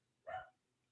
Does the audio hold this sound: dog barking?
yes